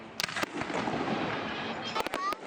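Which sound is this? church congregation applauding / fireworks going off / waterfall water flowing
fireworks going off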